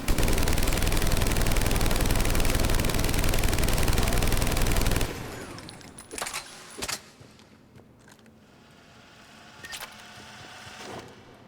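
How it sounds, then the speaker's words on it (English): The Typhoon gun in Mass Effect 3 fires a dense, continuous burst of rapid shots for several seconds, then cuts off, leaving a few sharp clicks and thuds. "Let's see if this really increases its effective range. I'll just go for body shots."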